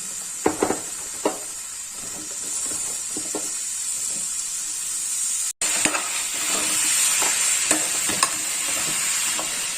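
Cubed bottle gourd and tomato frying in a pan, a steady loud sizzle with repeated scraping and clinking of the stirring spoon, one brief drop to silence midway, no talking.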